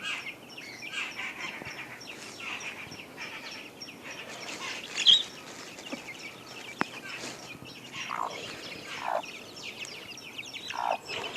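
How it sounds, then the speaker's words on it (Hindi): A mother hen clucks softly in short bursts, with her few-week-old chicks peeping and occasional chirps around her in a quiet outdoor setting. "ये इनकी माँ है मुर्गी की"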